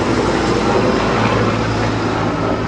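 Engine of a 1967 Pontiac Bonneville station wagon with a rebuilt carburetor missing a gasket, heard as a loud, steady, close rumbling roar that stays constant throughout without a distinct cranking start.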